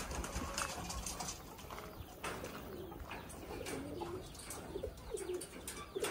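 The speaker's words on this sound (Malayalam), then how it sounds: "ഇനി നമുക്ക് കുറച്ച് പ്രാവുകളുണ്ട്" Pigeons coo and flutter close by at feeding time, soft throaty calls rising over a busy background of scuffling and clopping-like taps, with no talk.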